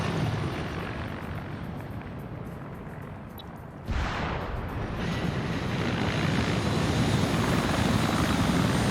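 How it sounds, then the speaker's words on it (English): In a multiplayer military video game, an Mi-24 helicopter flies low with a loud, continuous rotor and turbine roar that jumps in level partway through and stays close and strong to the end. "You got the Mi-24 going low right here"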